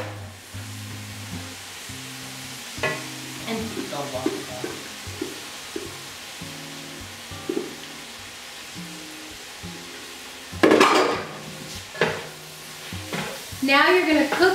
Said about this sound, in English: Now you're gonna cook your vegetables down.